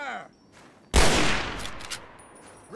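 A single volley of rifle fire on command in Fallout: New Vegas, one sudden loud crack from several guns at once that rings and decays over a second or so, with a faint voice before it.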